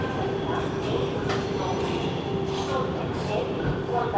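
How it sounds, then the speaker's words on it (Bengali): Howrah–New Delhi Rajdhani Express arriving at Dhanbad station, a steady train rumble with station ambience and brief clatter throughout, with voices in the background. "ট্রেন আমাদের এসে পৌঁছেছে ধানবাদ স্টেশনে"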